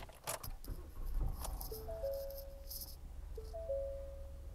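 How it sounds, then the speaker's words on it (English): A bunch of keys jangles in short metallic bursts as they go into the ignition of a 2018 Ford F-150 XL 4x4, followed by a few thin electronic chime tones inside the quiet cab. "If I can get the key in there."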